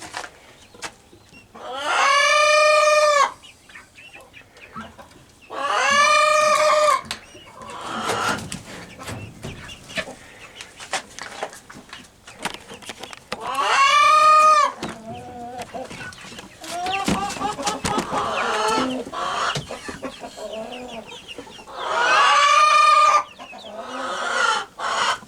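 Chicks and chickens in a cage: repeated loud rooster-like crowing calls stand out over steady clucking and chatter from the birds, close by, with a person talking through the middle stretch.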